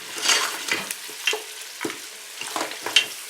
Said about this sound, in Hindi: ये ऑयल है इसमें अच्छी तरह फ्राई हो गए हैं